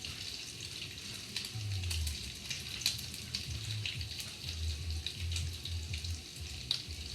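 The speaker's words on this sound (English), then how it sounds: "Now I'm making my mom's set of the bacon." Bacon frying in a pan, a steady, close crackling sizzle that continues throughout with small pops, alone with no talk.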